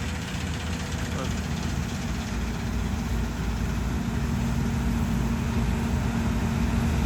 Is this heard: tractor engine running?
yes